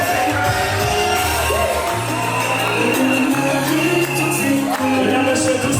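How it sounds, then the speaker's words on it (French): Wedding guests at a customary marriage ceremony cheering and shouting in a dense, continuous crowd din, with music-like tones and voices blended throughout. "Mesdames, Messieurs, recevons tous les applaudissements."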